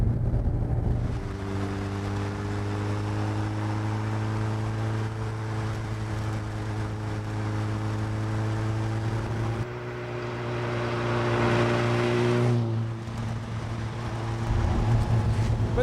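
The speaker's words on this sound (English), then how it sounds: "you can hear that howl from the engine, and that clunk is a sequential gearbox" A Megabusa car with a Suzuki motorbike engine and sequential gearbox howls with a steady, sustained engine drone. Its pitch shifts and drops at a couple of points, suggesting gear changes.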